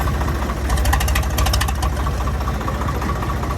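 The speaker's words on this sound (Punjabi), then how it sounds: "ਬਹੁਤ ਵਧੀਆ ਵਧੀਆ ਟਰੈਕਟਰ ਲੋਕਾਂ ਨੇ ਤਿਆਰ ਕੀਤੇ ਹੋਏ ਆ" Tractor engines, including a Swaraj 855, run loud and close in a crowded pilgrimage procession, a continuous throbbing, knocking diesel chug with no breaks.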